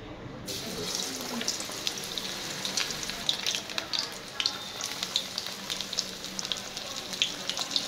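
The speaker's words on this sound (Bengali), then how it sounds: "ভাজাটা স্টার্ট করি" Radish chops coated in gram-flour batter frying in oil, a continuous close sizzle and crackle with scattered sharp spits and pops throughout.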